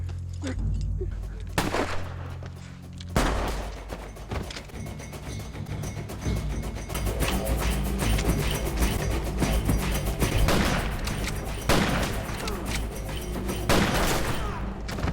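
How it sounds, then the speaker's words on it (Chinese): A forest shootout from the Bass Reeves TV series, with loud, sharp gunshots cracking in scattered single shots and quick clusters against a dense action soundtrack. "一场激烈的枪战在树林中打响，巴斯弹无虚发，一边移动一边射击。"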